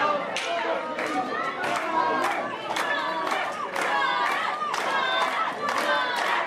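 A packed wrestling arena crowd cheers and yells for a wrestler, loud sustained roaring with bursts of shouts and clapping, a commentator's voice running underneath.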